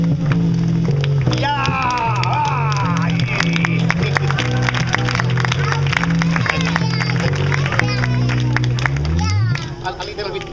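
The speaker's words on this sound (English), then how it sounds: "An applause for the world's strongest clown." Crowd applause for a strongman clown act at an outdoor street-theatre festival in Hamburg Altona, steady dense clapping sustained throughout over tonal music and crowd noise, fading near the end.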